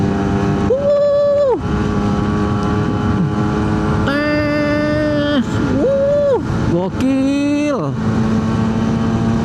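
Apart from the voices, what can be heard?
Suzuki A100 two-stroke motorcycle engine accelerating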